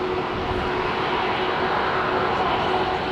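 Embraer E2 jet at Heathrow Airport, its steady broadband engine roar loud and continuous throughout with no break, a faint tonal whine riding above the rumble.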